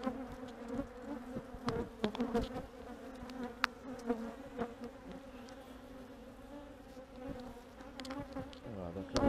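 Honeybees swarming around an open hive during an inspection after smoking, a dense close buzzing drone with individual bees flying past, no talking.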